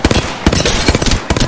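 Gunfire in the shooter Apex Legends rattles out as loud, rapid automatic shots in quick uneven bursts, close and punchy with no talking over it.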